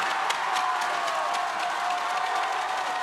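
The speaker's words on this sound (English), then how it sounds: "Listen to that sound, ladies and gentlemen. What a crowd." Crowd at a university varsity boxing match cheering and applauding, a dense, loud roar of shouts and clapping that holds steady for a few seconds without letting up.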